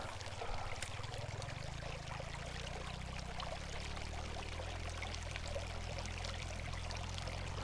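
A small creek pours and trickles steadily, a continuous close-up wash of flowing water with no voices and a low hum underneath throughout.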